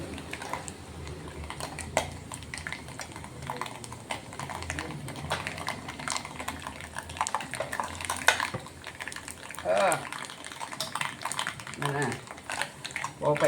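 Tempering spices (popu) crackling and sizzling in a hot pan while cooking lemon rasam with pongamia leaves, a dense, steady spatter with sharp pops and clinks throughout, under continuous talking.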